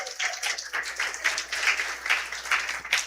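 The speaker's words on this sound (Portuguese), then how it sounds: "Agora salva de palmas para ele." A church congregation applauds during a Sunday evening service, with dense clapping from many hands at steady moderate volume across a short stretch, without speech.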